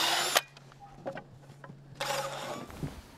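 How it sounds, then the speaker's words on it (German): Power drill pre-drilling holes in timber roof rafters for a roof truss in a carpentry workshop, two loud bursts of drilling separated by quieter knocks and handling noise. "Die Löcher werden vorgebohrt, aber nie in der Mitte der Kerve, sondern ein bisschen seitlich versetzt."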